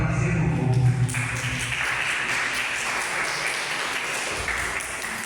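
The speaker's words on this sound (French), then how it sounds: "Applaudissez pour vous." Students applaud at a university fraternity day event, with steady clapping from a crowd running throughout, and a voice briefly audible at the start.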